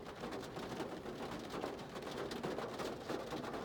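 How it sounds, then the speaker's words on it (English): Rain falls steadily on a parked car in Florida, a dense, even patter drumming on the roof and glass from close by, with no voices. "You're gonna be sitting in rain all damn day."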